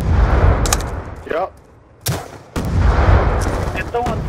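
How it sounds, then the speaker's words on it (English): Heavy explosive booms and gunfire from Black Ops 2 multiplayer on the Meltdown map, with noob tube grenade launcher blasts going off in several loud bursts around a brief lull, under a short spoken reply. "All they're doing is shooting noob tubes everywhere."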